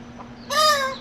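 Parrot on a catamaran imitating a chicken with a brief, clear clucking crow, close and loud, after a quiet moment with a faint voice.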